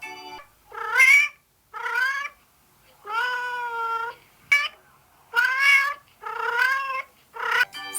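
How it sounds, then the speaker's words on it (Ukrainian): A cat meows repeatedly, six or seven drawn-out, plaintive calls with short pauses between them, close and clear. "Все вірно, це кішка."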